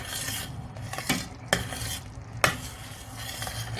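Blackberry jam is stirred in a pot with a spoon: a steady thick scraping churn with a few sharper knocks against the pot rim, close and moderately loud, no voices.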